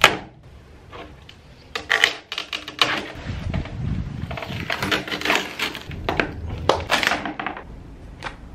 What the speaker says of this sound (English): now we need to take off the peel ply.